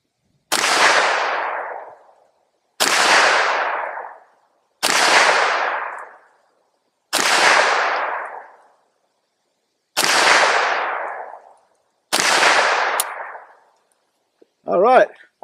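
An AK rifle fires six single shots at a target outdoors, loud sharp cracks spaced about two seconds apart, each trailing into a brief echo, followed by a short metallic clink at the end.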